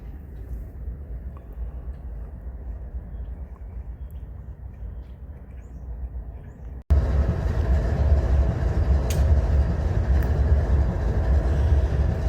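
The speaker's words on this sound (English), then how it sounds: "only freight trains go by here anymore." A freight train rumbles steadily through the Needles, California station, its low roar growing suddenly louder and fuller partway through with wheel and rail noise, with no voices over it.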